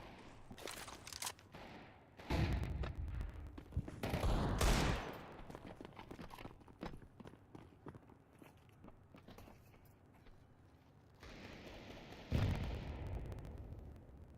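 Rapid bursts of gunfire in a Counter-Strike match, with sprays of automatic fire and single shots coming in clusters over quiet gaps, fairly faint overall.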